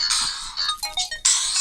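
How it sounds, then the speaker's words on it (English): A mobile phone ringtone chirps nearby, a bright electronic melody in short repeating phrases with a brief dip before the tone resumes, loud and alone with no voices over it. "That's my phone ringing."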